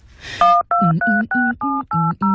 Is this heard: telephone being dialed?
yes